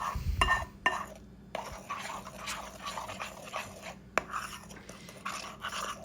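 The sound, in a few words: stirring melted chocolate mixture in a bowl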